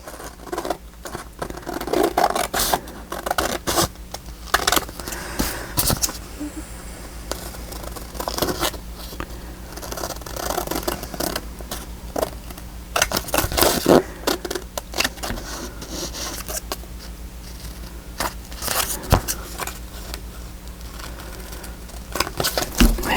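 Scissors cutting book pages for tags, a close run of rapid crisp snips and paper rustles repeating irregularly throughout, with occasional louder clacks.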